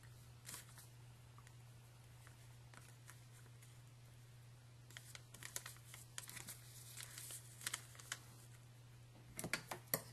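Crisp snipping and crinkling of paper, in scattered short bursts that cluster toward the end, close and fairly quiet over a steady low hum.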